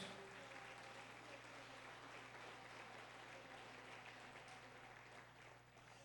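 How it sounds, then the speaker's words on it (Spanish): Applause from a church family service congregation, a dense, even wash of clapping heard faint and distant throughout. "Dale un aplauso al Espíritu Santo de Dios."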